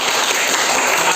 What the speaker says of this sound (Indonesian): tepuk tangan dulu buat teman kalian kelompok 3